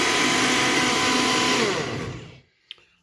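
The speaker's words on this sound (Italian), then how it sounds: "passato nel frullatore" Blender whirring loudly as it blends almonds and water into almond milk, a steady dense roar that runs for about two seconds, then spins down and stops, followed by a brief click.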